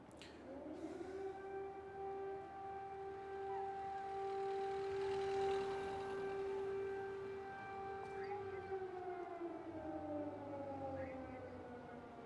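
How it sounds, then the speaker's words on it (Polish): An air raid siren wails over Independence Square in Kyiv, a long steady rising and falling tone carried across the city from a distance, holding for most of the stretch before gliding down, with faint traffic and a voice briefly underneath. "Pierwszy raz, jak usłyszy się taką syrenę, to naprawdę robi to niesamowite wrażenie."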